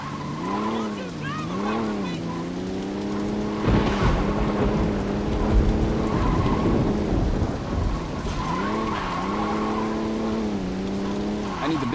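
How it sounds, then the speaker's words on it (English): A fast car in Saints Row 2 races along, its engine note loud and close, rising and falling in repeated revving swells as gears shift. "Thankfully, this is a decently fast car"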